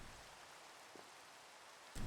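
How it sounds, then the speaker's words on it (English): Steady rain falling in Minecraft, a soft, even hiss throughout with a brief louder burst near the end and no voices. "we need the rain to stop raining now"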